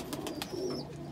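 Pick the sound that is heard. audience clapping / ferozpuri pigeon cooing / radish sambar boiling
ferozpuri pigeon cooing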